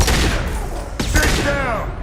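Gunfire crackles in Mass Effect 2 combat as loud, close shots burst over a dense rumbling battle din, with a sharp blast near the middle and a voice speaking briefly.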